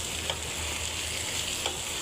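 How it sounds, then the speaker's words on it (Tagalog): Bitter gourd stir-frying with plenty of onions, a brief steady sizzle with a couple of light stirring taps, no talking. "ilagay na natin itong ating ampalaya mga mi. Tapos haluin natin."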